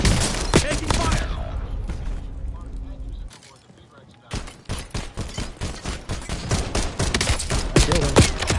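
Rapid bursts of close, loud gunfire crackle in Call of Duty Warzone, pausing for a short lull before volleys of shots return, with voices speaking over the action.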